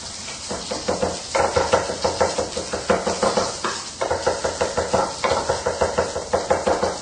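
A knife chops quickly through herb sprigs on a cutting board in a fast, steady rhythm of close, crisp taps, broken by a few short pauses between bursts.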